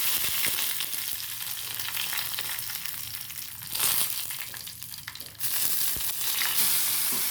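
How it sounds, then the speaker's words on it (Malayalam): Loud, dense hiss of curry leaves frying in hot coconut oil, surging in bursts as more hits the pan, close up and continuous. "ഇനി നമുക്ക് കുറച്ച് വേപ്പിൻ്റെ ഇല ഇട്ടെടുക്കാം"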